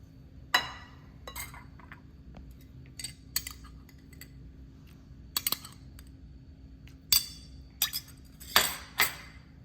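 Sharp glassy clinks from a spoon or utensil against a bowl while gulab jamun dough is mixed, arriving as scattered irregular taps, some in quick pairs or clusters, close and fairly clear over a quiet low hum.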